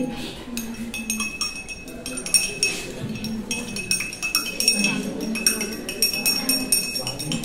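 A spoon clinks against laboratory glassware as lime is added during a school practical, with bright repeated ringing taps under ongoing classroom talk.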